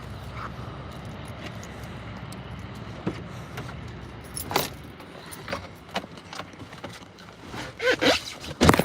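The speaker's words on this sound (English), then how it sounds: "Let me find my keys." Keys jangling near a car, with scattered metallic clinks and rustling that grow louder and busier toward the end, close and unaccompanied by talk.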